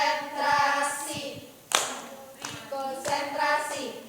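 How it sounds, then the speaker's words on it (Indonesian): A classroom of students performs a rhythmic concentration clap, tepuk konsentrasi, in sharp unison bursts with pauses between groups of claps, with faint voices of children and an instructor chanting along. "Kita awali terlebih dahulu dengan tepuk konsentrasi."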